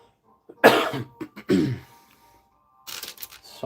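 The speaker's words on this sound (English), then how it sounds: "Sorry for coughing." Two harsh, close coughs a moment apart, followed by a softer throaty rasp, in an otherwise quiet space.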